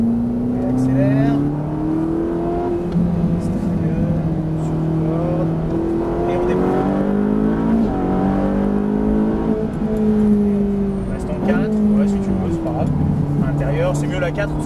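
A Ferrari 458 accelerates on a race track, its engine tone climbing through gears with shifts and a dip while braking into a turn, loud from inside the car as a person talks over it.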